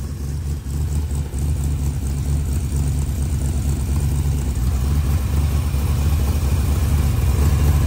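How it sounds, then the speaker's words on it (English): A deep, steady small-block Chevrolet engine idle in a modified Porsche 914 race car rumbles close by with a low, throaty exhaust tone, holding even throughout with no revving. "The funny thing about this exhaust is right now it's not that loud."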